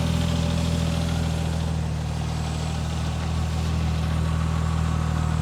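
A Porsche 996 Turbo engine idles steadily, giving a continuous, even low rumble heard close up with no talking over it.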